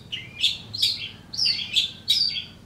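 Long-tailed shrike (cendet) giving a run of about six sharp, high chirping calls in quick succession, close and clear over a quiet background.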